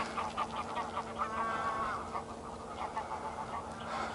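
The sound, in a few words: flock of geese honking at Loch Leven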